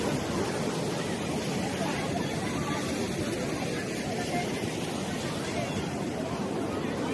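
A strong main stream of clear water rushes loudly and continuously where many people are bathing, with a dense babble of crowd voices mixed into the roar.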